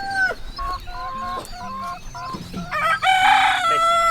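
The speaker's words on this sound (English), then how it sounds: "setting the chickens up in a new space" Chickens cluck in short, repeated calls close by, and a louder rooster-like crow rises near the end, with no talking.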